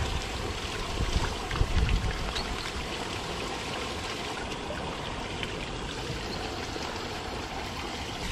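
A stream in the Netherlands flows steadily nearby, continuous rushing water in a dense even wash with a slightly louder surge early on.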